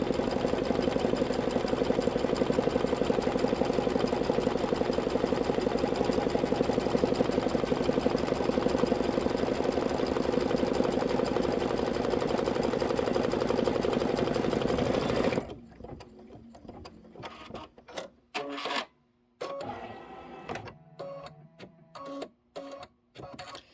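An embroidery machine stitches the bottom of a card in a Fresh Flowers project, running as a loud, steady mechanical whir for about fifteen seconds before stopping abruptly, followed by softer intermittent clicks and handling sounds.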